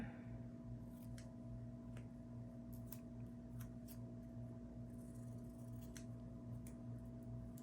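Faint, sparse scissor snips cut through paper during a planner-decorating session, thin clicks scattered over a steady low electrical hum in a quiet room.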